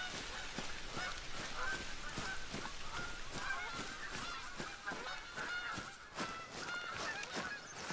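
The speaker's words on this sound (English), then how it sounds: "Not paying attention to the geese." A flock of geese honks continuously in a hunting video game, dense repeated calls in a steady rhythm, moderately distant and filling the scene.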